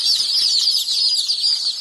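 A crowd of local chicks at a veterinary shop peep shrilly and without pause, a close, loud chorus of high cheeps with no voices over it.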